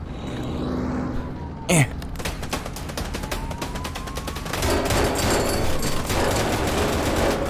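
Rapid automatic gunfire rattles in a dense, close stream in the virtual-reality game Killdozer VR, with one sharp louder crack early and a rumbling engine building underneath toward the end.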